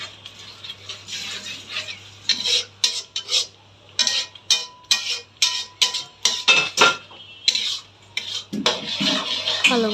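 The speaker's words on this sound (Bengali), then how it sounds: "এখন আমি বেটে রাখা পালং শাকগুলো দিয়ে দেব। খুব ভালোভাবে নেড়ে চেড়ে একসাথে মশলাগুলো মিশিয়ে দেব।" Ground spinach and spices being stirred in a pot for spinach meat curry, a rapid run of close scraping clinks of a spoon against metal in an uneven rhythm, over a low steady hum, no speech.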